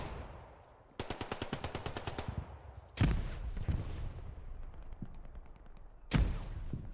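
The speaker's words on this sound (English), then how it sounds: "Guns down Shark" Gunfire in the World War II shooter Hell Let Loose during a competitive console match: a rapid burst of automatic fire, then heavy single shots and distant crackling rounds, with no voices.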